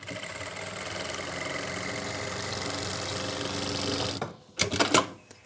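A sewing machine runs steadily while stitching an elastic belt onto a saree, a continuous mechanical whirr for about four seconds that stops abruptly, followed by a few short clicks and handling knocks.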